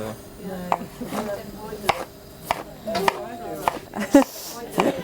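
Onions chopped on a board at a cooking demonstration, a run of irregular knife thuds close by, while people talk over the cutting.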